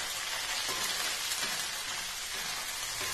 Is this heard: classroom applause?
no